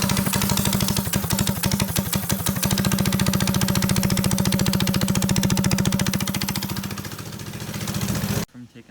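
Predator 212 go-kart engine with a stage one upgrade starting up and settling into a loud, rapid, steady putter nearby before cutting off abruptly at the end.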